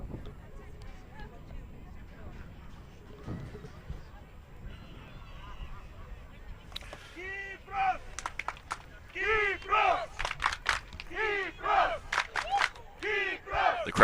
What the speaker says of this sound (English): The crowd really getting behind the Cyprus national team here.